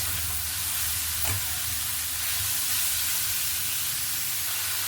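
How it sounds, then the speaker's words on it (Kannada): Grated carrot being stirred into hot tempering in a pan for carrot palya, a steady soft sizzle and hiss throughout with a brief scrape of the spoon, close and fairly quiet. "ಕ್ಯಾರೆಟನ್ನು ಒಗ್ಗರಣೆ ಜೊತೆ ಈ ಥರ ಮಿಕ್ಸ್ ಮಾಡ್ಕೊಳ್ಬೇಕು"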